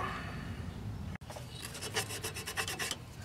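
Rust being scraped off the flywheel magnets of a Briggs 190cc lawn mower engine, a short burst of close, rhythmic rasping strokes after a brief pause, no voices.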